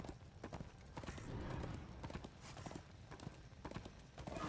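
Steady clip-clop of horse hooves trotting in Darksiders II at a quick, regular rhythm, fairly close, with a constant wash of background noise.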